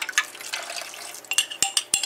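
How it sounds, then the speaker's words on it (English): Cornstarch slurry of water and cornstarch poured into a stir fry pan of beef and vegetables, a soft liquid splash and sizzle with a few sharp clinks of utensils against the pan near the end. "we're going to add a cornstarch slurry in here"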